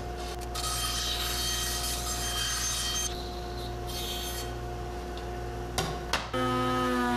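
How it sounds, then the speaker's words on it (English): A curved wooden ring for a bar cart is hand sanded, producing a steady rasping rub over a constant background hum, ending with a couple of brief knocks and a louder, harsher stretch. "spent some time fairing the curve with a little hand sanding"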